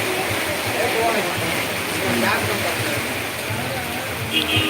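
Early-morning rain pours down steadily in a dense, even hiss of drops, with a voice faintly audible beneath the downpour.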